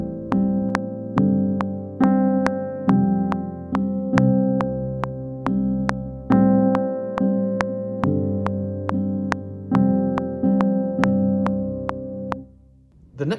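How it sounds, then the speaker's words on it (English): Keyboard plays sustained root-and-fifth chords in a steady repeating rhythm, each chord struck with a clear attack and left to ring, loud and close with no voice, fading out at the end. "if you're really not sure what to play, the 1 and the 5 is always a good place to start"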